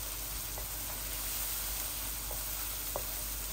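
Dried chillies and Naga chillies frying with spices in hot oil, a steady close crackling sizzle with a few sharp pops, no talking.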